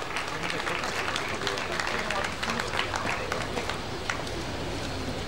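Applause for Queen Silvia of Sweden, a steady outdoor crowd clapping that holds at an even level throughout, with a narrator speaking over it.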